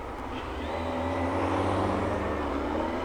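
An old car drives past on a street in Germany, its steady engine rumble and tire noise swelling slightly and then easing, fairly close and continuous with no talking.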